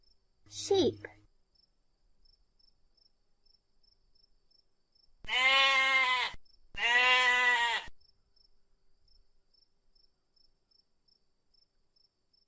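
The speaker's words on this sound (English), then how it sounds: "sheep" A sheep gives two clear, close, sustained bleats in quick succession, with a brief squeaky call before them and quiet in between.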